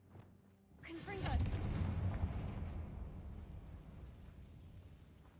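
A Confringo fire spell goes off in Hogwarts Legacy, a single loud booming blast that rises after a brief quiet start and then rumbles on, slowly fading and leaving a long, low, crackling tail.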